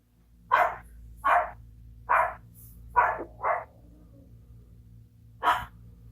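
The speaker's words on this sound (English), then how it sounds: "I don't know what she is barking at." A dog barks six times, sharp and fairly close, in an irregular sequence of single barks with short quiet gaps and low background hum, no talking.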